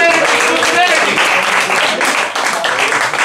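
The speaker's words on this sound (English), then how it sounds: "Clap it up for them." A battle rap show crowd in New York claps for two battlers, a loud, dense burst of applause that holds steady, with a voice talking over it.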